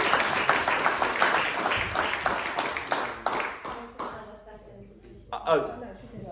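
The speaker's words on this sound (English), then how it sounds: "Give her a round of applause." Audience applause at a health inequalities network meeting, a thick burst of clapping that thins out after a few seconds into scattered claps, with people talking nearby as it fades.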